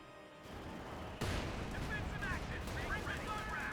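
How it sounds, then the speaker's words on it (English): A Panzer IV tank firing its main gun in Company of Heroes 2, heard as a sudden heavy boom that cuts in after a quieter stretch, with rumbling battlefield noise and scattered high whines and clatter following. "The Panzer IV does get the first shot off."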